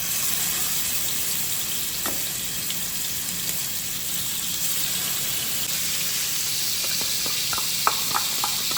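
Koi fish frying in hot oil, browning on both sides, gives a steady broadband hiss and sizzle throughout, with a cluster of small sharp pops and crackles near the end.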